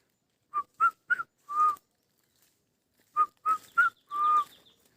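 Whistled imitation of the kafal pako bird call of the Himalayan hills, given as two clear phrases of four notes each, three short rising whistles then a longer falling one, separated by a pause, close and alone.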